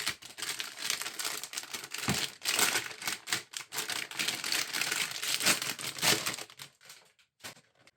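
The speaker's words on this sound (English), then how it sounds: "let me go ahead and peel away this plastic." Plastic wrap peeled and crinkled off a Divoom Ditoo Pro during unboxing: a near, continuous crackling and rustling with sharper bursts, tapering into a few sparse crinkles at the end.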